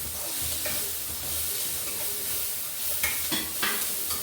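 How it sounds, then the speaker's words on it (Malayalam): Onion, ginger, garlic, shallots and tomato sautéing and being stirred in a pan for a beef curry, a steady close sizzle with soft scraping stirs and a few sharper clatters near the end. "സവോള, ഇഞ്ചി, വെളുത്തുള്ളി, ചെറിയുള്ളി ഇത്രയും വഴറ്റിയെടുത്ത് ഇനി നമുക്ക് ഈ തക്കാളിക്ക് കൂടി ഇടാം."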